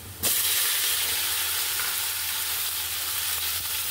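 Pieces of sweet pumpkin hit hot oil in a pan with a bay leaf, setting off a sudden loud, steady sizzle that hisses continuously and evenly, with no voices over it.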